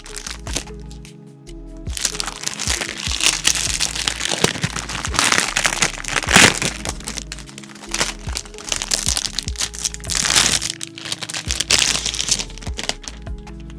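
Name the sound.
protective plastic film being peeled off a new keyboard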